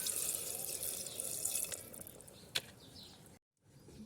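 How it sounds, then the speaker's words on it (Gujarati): Water pours steadily into a pan of sizzling drumstick and potato curry, a continuous rushing splash close up that cuts off briefly near the end before faint sound resumes. "હવે આપણે એમાં પાણી ઉમેરી દઈશું"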